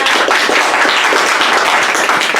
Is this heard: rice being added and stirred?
no